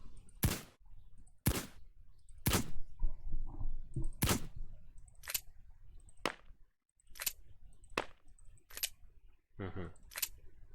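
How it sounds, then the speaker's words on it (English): Suppressed gunfire in Left 4 Dead 2 with Payday 2 mod sounds, a series of about eleven sharp, clipped pops fired at a steady, slightly irregular pace, close and crisp, with faint talk murmuring between shots. "That's the suppressed sound, I suppose."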